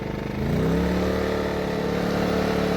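A Genergy Limited 1500i petrol inverter generator running at maximum load, giving a loud, steady engine drone with a rising hum early on that then holds evenly throughout.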